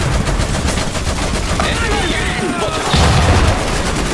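Gunfire in the real-time strategy game Iron Harvest, a dense, continuous rattle of shots and booms running throughout, with a voice shouting over the battle noise.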